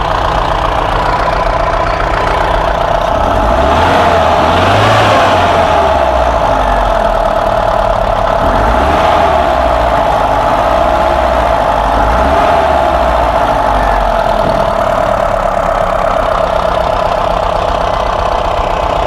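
Close, loud Mahindra Bolero Pickup CNG engine idling with slight missing, revved up in three separate surges that rise and fall back to a steady idle.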